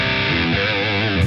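Electric guitar running through the Helix's Steve Vai Legacy Drive amp-in-a-box distortion model. A thick, sustained distorted chord rings out loud and close with no talking.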